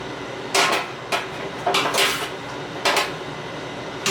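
Boiled ribs are moved from a pot into a pan, giving several sharp metallic clanks and scrapes of utensils against cookware, spaced irregularly and close by.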